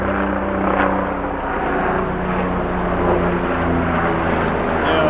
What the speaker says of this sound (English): I think it's a life flight helicopter.